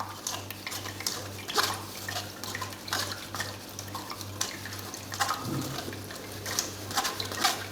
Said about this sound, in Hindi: ये देखिए जी, स्ट्रेनर के साथ हम स्ट्रेन कर रहे हैं इसको।